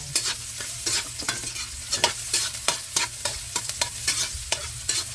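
Onion and garlic frying in a pan while being stirred, a steady sizzle broken by regular scraping strokes of a utensil, close and alone with no talk.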